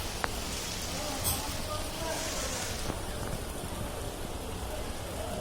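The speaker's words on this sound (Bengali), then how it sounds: "রাতে বৃষ্টি পড়ার মজাই আলাদা।" Steady rain falls at night, a dense continuous hiss of drops with a cool breeze, unbroken and fairly loud throughout, with faint background noises but no clear voices.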